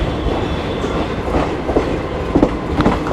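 Shramjeevi Express hauled by a WP7 locomotive near Varanasi, a loud, close rumble of rolling coaches with rhythmic clickety-clack of wheels over rail joints, steady throughout with no voices.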